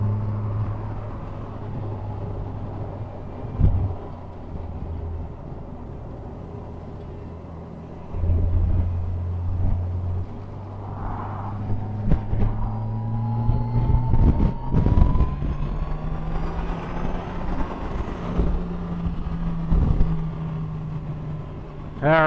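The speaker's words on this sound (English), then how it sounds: "Power of the mighty FJR." A Yamaha FJR motorcycle rides along a road, its engine droning steadily with rising and falling pitch through gear changes, mixed with wind buffeting on the microphone.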